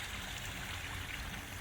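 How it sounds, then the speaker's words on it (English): Steady rushing and trickling water from a double waterfall in a Japanese garden water feature, a continuous even wash of falling water close by with no voices. "Another nice water feature with a double waterfall."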